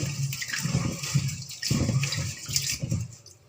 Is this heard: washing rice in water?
yes